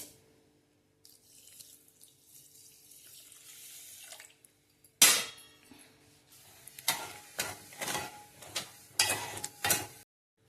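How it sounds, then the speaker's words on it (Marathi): A glass of water poured into half a kilo of sugar for syrup, a brief gurgling stream followed by repeated close scraping and clinking bursts, with no talk. "1 ग्लास पाणी टाकते त्याच्यात."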